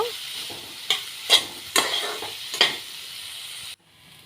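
Small potatoes and turkey berries fry in a pan for an Assamese dish, a soft hiss broken by four or five sharp scraping stirs close up, before the sound drops away abruptly.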